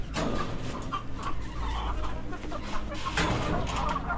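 Chickens in a coop cluck and squawk continuously, a dense, loud flock chorus close by with overlapping calls throughout.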